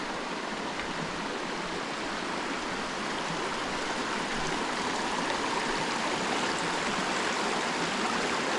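A river at Fall Creek Falls rushes loud and close in a steady, dense wash of flowing water that never lets up, with no voices over it.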